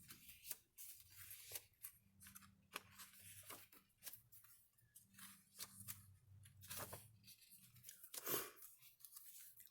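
Handmade paper journals decorated with feathers, fabric, braille paper and a paper clip are handled up close, giving crisp rustles, soft crinkles and occasional sharp snaps of pages in an irregular rhythm, with no voices.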